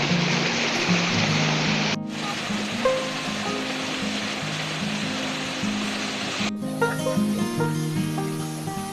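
Steady rushing water from a river stream near a secret waterfall on the Tipakan River, a broad continuous wash with abrupt shifts in level, loud and close throughout.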